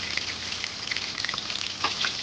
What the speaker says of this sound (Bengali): খুব গরম তেলের মধ্যেই মাশরুমগুলো ভাজতে হবে।